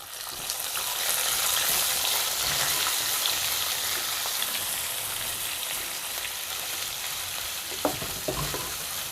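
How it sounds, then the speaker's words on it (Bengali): Onion paste fries in a hot pan for chicken kosha, giving a loud, steady, rain-like sizzle that swells early and continues evenly, with a few stirring knocks and no talking. "কিছুক্ষণ ভেজে নেব। দিয়ে দিচ্ছি পেঁয়াজ বাটা 1/4 কাপ।"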